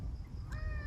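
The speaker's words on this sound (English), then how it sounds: "There's some birds chirping" A brief bird call sounds faintly outdoors, a single short cry over a low background rumble.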